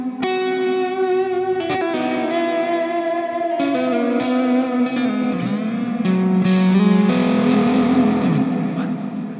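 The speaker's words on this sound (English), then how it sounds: "with the pre-delay on max, you can hear the distance between the source and the reverb." Sustained distorted electric guitar notes washed in reverb from a Flamma FS02 reverb pedal with pre-delay at maximum, a noticeable gap before the ambient tail blooms behind each note.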